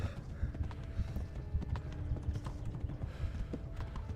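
Horse hooves in the video game Kingdom Come: Deliverance clop in a quick, uneven rhythm, close and distinct, with faint mechanical rattles behind them.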